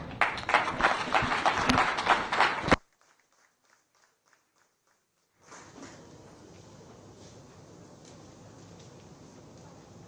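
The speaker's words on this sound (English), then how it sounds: "Can we have a round of applause once again for sir?" Loud applause from an audience at an anniversary celebration ends abruptly after a few seconds, followed by near silence and then a low, steady background hum of the hall.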